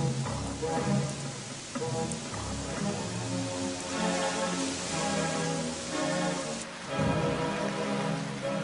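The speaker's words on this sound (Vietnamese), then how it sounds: "những tiếng ầm ĩ phát ra từ phía những cơn mưa liên tục như trút nước" Heavy, continuous downpour drumming steadily on surfaces, a dense unbroken wash of rain with faint rumbling beneath, no voices.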